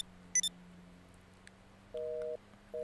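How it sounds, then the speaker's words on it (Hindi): A phone being dialed inside the video game GTA V: two quick high keypad beeps, then a sustained electronic tone that starts again at the end, all over a steady low hum, with no talking. "माइकल को फोन करने दो।"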